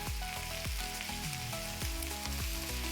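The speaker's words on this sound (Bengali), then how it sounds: "এবার আমি ওই একই তেলে কুচি করে রাখা পেঁয়াজগুলো দিয়ে দিলাম।" Chopped onions sizzle in hot oil for a Bengali egg curry, a steady close crackle broken by several sharp clanks of a spatula stirring the pan.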